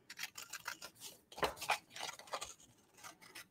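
Scissors snip steadily through paper in a quick run of crisp cuts, close up and soft, with no talking.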